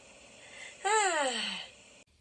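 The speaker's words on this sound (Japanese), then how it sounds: "あかわいいかな今のくしゃみ。" A single sharp human sneeze with a falling, voiced tail, close and loud against a quiet room, cut off abruptly afterward.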